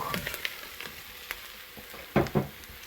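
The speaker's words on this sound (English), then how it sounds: "now I'll add in the cauliflower" Cauliflower drops into sizzling garlic in a pressure cooker, a soft steady frying hiss broken by a few light clicks and then two louder scraping, crackling bursts near the end, close and fairly quiet.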